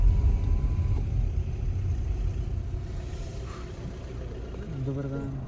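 A car engine drones and road noise rumbles steadily from inside a vehicle driving along a road into the town of Vrandia in Serbia, with a person talking over it.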